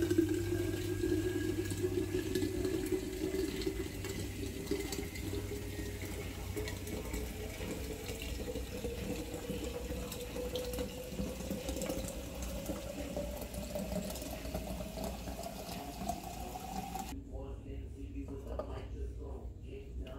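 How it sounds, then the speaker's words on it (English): Water poured into a coffee machine reservoir, a steady trickling fill with rising pitch as the container fills, moderately quiet, stopping near the end. "we're going to go ahead and put some water here in it, over here in the reservoir"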